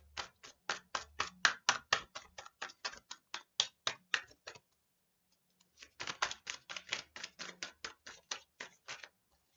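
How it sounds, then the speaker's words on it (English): A deck of tarot cards being shuffled, producing rapid rhythmic tapping clicks in two quick bursts separated by a short pause, close and fairly quiet. "I wanted to show you that I'm actually shuffling them, by the way."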